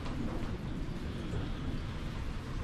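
Heavy rain during Storm Eunice under trees in Limburg, a dense, steady roar of downpour with no breaks or voices.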